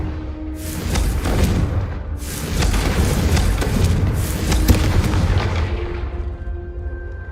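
The Confringo fire spell exploding in Hogwarts Legacy: a series of loud booming blasts and crackling bursts roll over one another, close and powerful, fading toward the end.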